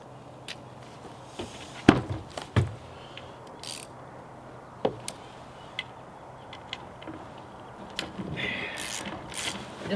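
A ratchet wrench loosens a 10 mm bolt on a log splitter, giving sparse, quiet clicks and a few sharper metallic ticks against a low background hum, with small handling noises between them.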